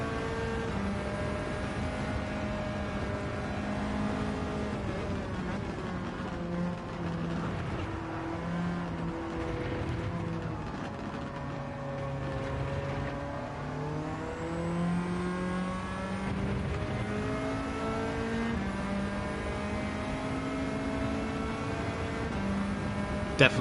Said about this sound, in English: There's just something about hearing the turbo going for it.